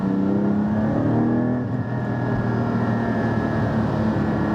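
A Porsche GT4 engine with a Milltek exhaust revs hard and steadily in fourth gear around 4,000 rpm, a loud continuous roar with a brief dip midway, no voices.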